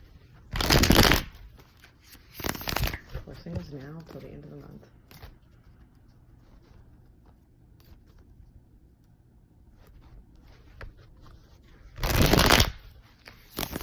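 Tarot cards are shuffled in short, riffling bursts, twice near the start and once at the end, close by, with quiet speech in between.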